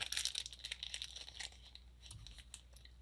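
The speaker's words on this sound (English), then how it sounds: "I'm going to go ahead and snip off the edge of the bag" A quick snip of scissors through the edge of a plastic piping bag, a few crisp crinkly cuts close up with no talk, fading after about a second and a half.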